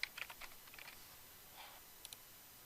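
Quiet computer keyboard typing taps out a short burst of soft clicks, then pauses before two final light keystrokes, faint against a low background hiss.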